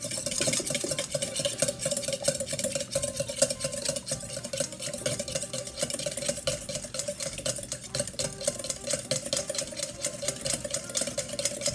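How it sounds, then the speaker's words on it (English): A whisk beats a mixture in a bowl with rapid, continuous metallic clicking and scraping, steady and close throughout, with no voices over it. "and then we whisk it"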